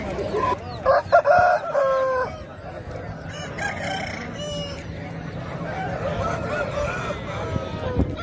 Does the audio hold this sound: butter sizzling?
no